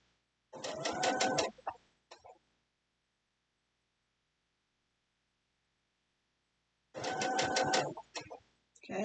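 A sewing machine stitches a quilt block across a seam in two short, fast bursts of rapid mechanical clatter, separated by several seconds of silence.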